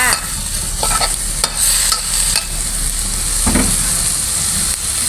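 Korat-style pad kaprao stir-fries with holy basil leaves in a hot pan, giving a loud continuous sizzle punctuated by several sharp clanks and scrapes of a spatula, with no talking.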